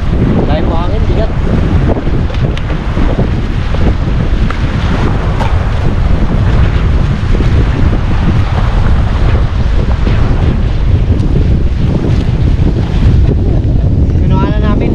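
Strong wind roars across a boat at sea, buffeting the microphone in a loud, constant rush with waves beneath.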